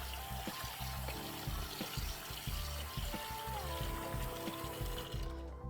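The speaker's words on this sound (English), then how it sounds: "Strain it on out, get that water out." Rinse water drains and trickles from sushi rice being strained, a continuous close splashing pour with small clattering knocks, stopping just before the end.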